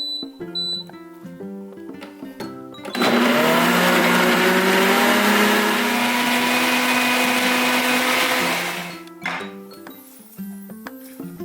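A kitchen blender roars loudly for about five seconds as it grinds ingredients for kimjang kimchi seasoning paste, then stops. Light plucked background music plays before and after.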